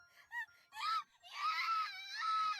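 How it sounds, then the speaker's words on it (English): Screaming and wailing voices in the horror game Corpse Party, a few short cries followed by a long, drawn-out anguished scream, heard clearly and alone without talk over it. "We just hear them screaming."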